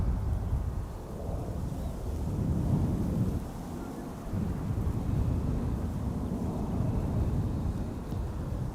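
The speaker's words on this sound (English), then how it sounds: "another airplane passing overhead. That is a KLM 737." A KLM Boeing 737 passes overhead near Amsterdam Schiphol Airport, making a steady, loud, low rumbling roar that holds for the whole stretch and swells slightly in places.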